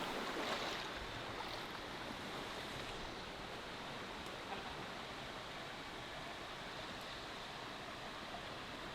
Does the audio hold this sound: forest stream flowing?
yes